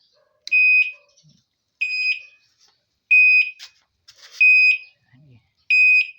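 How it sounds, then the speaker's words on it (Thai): Reverse warning beeper on an electric three-wheeler, five loud, piercing electronic beeps repeating at a steady interval of about a second, with faint background noises between them. "ผมถอยหลังเสียงดังมากนะครับ"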